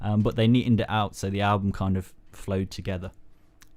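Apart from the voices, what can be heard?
No everyday noise stands out behind the speech.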